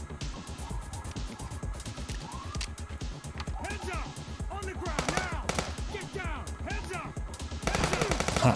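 Rapid bursts of video game gunfire crack and rattle, some single shots and some quick volleys, with voices talking underneath.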